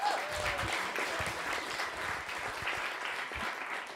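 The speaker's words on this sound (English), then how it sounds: "So can we just clap for that before we get started?" Audience clapping at a coding bootcamp demo day in Barcelona, steady dense applause filling the room for the full stretch, fairly even in loudness with no talk over it.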